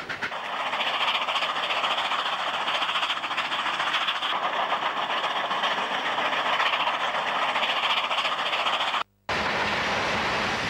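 Steam locomotive 38-27, hauling train number 46 near Yulamogo and Geary in New South Wales, runs with a loud, sustained rumble and rhythmic chuffing, cut by a brief dropout near the end.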